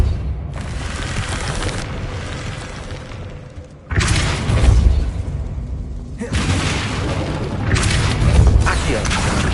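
Spell-casting effects in the Hogwarts Legacy video game: a Depulso force push lands as three loud broadband booming bursts over a continuous game soundscape, each hit swelling with low rumble.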